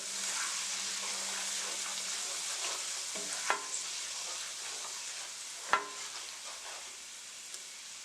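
Cajun honey sauce with lemon juice and salt being stirred in a pan, a steady soft sizzle with scraping strokes and two sharp utensil knocks against the pan, no talking.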